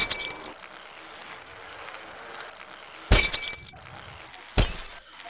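Two sharp glass-shattering crashes in the Happy Wheels video game, the second about a second and a half after the first, over a quiet steady background hiss.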